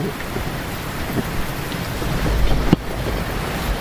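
Heavy rain pours steadily in a dense, continuous hiss, with a brief sharp knock partway through.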